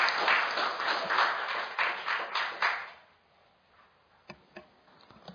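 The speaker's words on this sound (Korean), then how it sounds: "박수로 맞아주시기 바랍니다" A hall audience breaks into applause to welcome a student speaker, a full burst of clapping for about three seconds that dies away, followed by a few scattered single claps.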